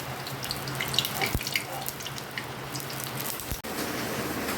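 Heavy rain falling steadily outside a home kitchen, a dense continuous wash with a couple of sharp knocks near the start and later, no talk over it.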